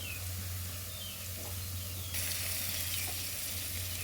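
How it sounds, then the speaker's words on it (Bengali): Red lentils with turmeric and salt fry in a pan in a soft, steady sizzle that keeps going unbroken, under a low hum and with no voices. "ডালটাকে একটু ভেজে নিচ্ছি।"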